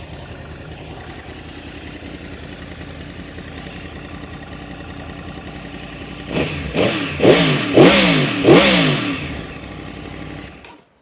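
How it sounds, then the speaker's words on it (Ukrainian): A 2009 Yamaha R1 sport motorcycle idles with a steady low engine note, then revs hard in four quick throttle blips that rise and fall before settling back to idle, loud and close. "Такий звук мотоцикла,"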